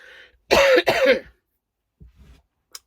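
Two harsh, forceful coughs in quick succession, close by, followed by a quieter throat sound and brief silence.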